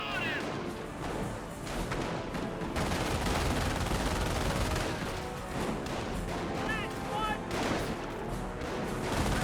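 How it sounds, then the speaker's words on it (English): Mortar shell striking a British Bren infantry squad during a Company of Heroes 1 match against Panzer Elite, heavy continuous battle noise of blasts and gunfire with voices mixed in, loud and dense throughout. "took a direct hit there from the mortar with the mark target on"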